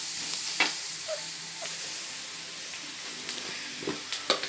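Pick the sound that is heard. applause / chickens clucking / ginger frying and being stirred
ginger frying and being stirred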